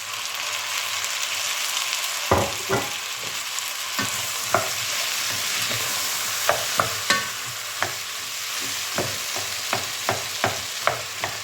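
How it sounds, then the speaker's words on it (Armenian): Steady sizzling of food frying in a pan, with occasional sharp clicks and taps of a utensil stirring, no voices. "Քիչ լոլիկի հետ տապակվի"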